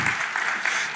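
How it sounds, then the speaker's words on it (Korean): An audience applauds to welcome a guest onto a stage, a steady broadband patter of many hands clapping with a few louder bursts and no voices over it. "우리 박수로 한번 맞이하겠습니다."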